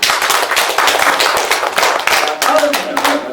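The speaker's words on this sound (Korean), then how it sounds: "뜨거운" An audience gives loud, sustained applause at the end of a lecture on resolving marital conflict, with dense, vigorous hand clapping filling the room and a voice speaking faintly beneath it.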